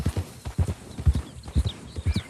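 Horse hooves clip-clop in a brisk, steady rhythm in the video game Red Dead Redemption 2, a close, clear series of paired hoofbeats with no talk over them.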